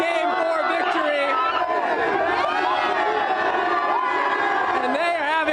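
A large crowd celebrating an NBA Finals Game 4 victory cheers and shouts in a steady, loud roar, with overlapping excited voices and chatter throughout.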